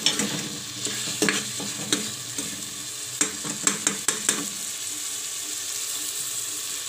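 Ginger stirred into aloo gobi frying in a pan, dhaba style: a steady sizzle of oil runs throughout, broken by several sharp scraping clicks of a spoon against the pan, with no talk.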